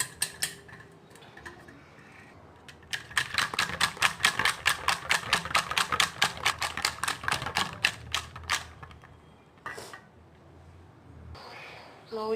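Rapid, even clicking of a fork or spoon whisking egg and bread batter seasoned with pepper powder, salt and chopped green chilies in a bowl, loud and close, running steadily for several seconds before stopping, with a few softer taps around it.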